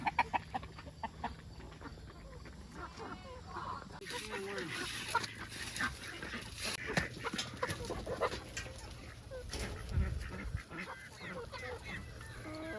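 Chickens clucking alongside ducks and geese in a busy barnyard, with occasional talking mixed in.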